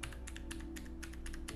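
Someone types a password on a computer keyboard, a quick run of about a dozen crisp, close key taps in small bursts over a steady background hum, with no talking.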